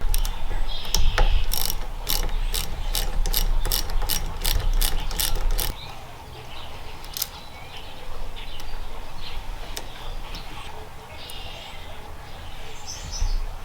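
A ratchet clicks in quick bursts while loosening the nut that holds the thumb throttle to the body of a Yamaha YFZ450R ATV, close and loud in the first half, then quieter handling noises follow.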